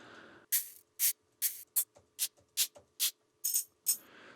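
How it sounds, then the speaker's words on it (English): A string of separate tambourine hits, about a dozen short bright metallic jingles played one after another with small gaps, close and crisp. "See if we can find some tambourine samples."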